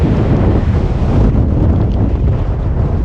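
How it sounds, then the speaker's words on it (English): Strong wind roaring across Paso Ventarrón, a mountain pass on the Dientes de Navarino trek, pounding the microphone with loud, unbroken low-heavy buffeting and no voices. "It's extremely windy."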